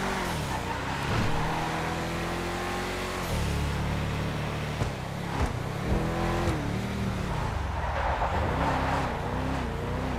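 A Fathom FR36 drift car in GTA Online, its engine droning and rising through revs with gear shifts and tyre screech while drifting, loud and continuous throughout.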